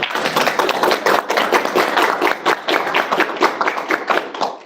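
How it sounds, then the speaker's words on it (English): Audience at a school board meeting applauding an honored supervisor, a dense, uneven patter of clapping from a modest room of people, continuous and fairly close for several seconds. "We can clap."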